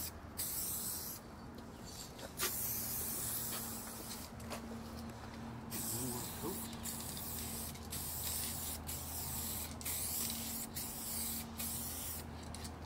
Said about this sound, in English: So move along with the spray.